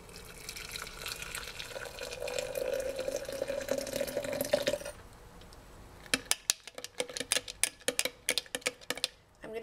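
Water pours into a cup to brew mucuna pruriens tea, a steady stream whose tone rises as the cup fills for about five seconds, followed by a run of sharp, irregular clicks and taps.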